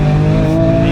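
A 1000hp 9ff Porsche Turbo at full throttle on the Nürburgring, its engine roaring loud and close as it accelerates, a steady strained tone rising slightly over a brief burst.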